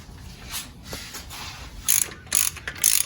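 A ratchet tightens bolts while headers are installed on a Corvette C6 Z06, heard as short bursts of close, crisp clicking, with three sharper runs toward the end.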